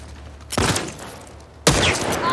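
Two sharp gunshots in The Last of Us Part II, loud and close and about a second apart, each followed by a brief decaying tail.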